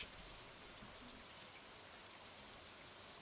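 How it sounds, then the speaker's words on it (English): Steady rain in the video game Stardew Valley, a soft continuous patter of drops on surfaces, faint and even throughout with no voices. "Have we just been listening to the wonderful, satisfying sounds of rain this entire time?"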